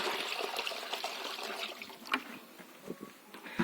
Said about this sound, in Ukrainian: Тому я спеціально налила гарячої води. Зараз налию.